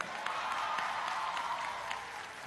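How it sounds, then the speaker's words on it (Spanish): A concert crowd at the Suena Caracas festival in Caracas applauds in a dense, steady wash of clapping that stays at an even level throughout the short stretch. "un aplauso para ustedes"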